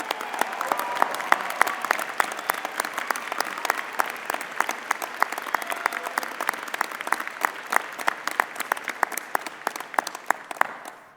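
Sustained applause from a large commencement crowd for standing first-generation graduates at a midyear undergraduate ceremony, dense rapid clapping that holds steady for about eleven seconds before tapering off.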